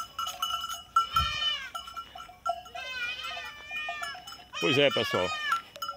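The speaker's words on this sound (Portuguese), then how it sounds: "Tá com bode aqui ainda, pessoal." Goats bleat repeatedly near a river at nightfall in dry caatinga pasture, several wavering calls close by with a loud burst near the end, while someone talks over them.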